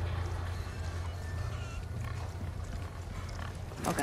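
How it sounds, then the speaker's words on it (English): Low, steady grunting of cows in Resident Evil 4 Remake, a continuous rumbling drone with a brief rustle near the end; no one speaks. "Hey cows, move out the way."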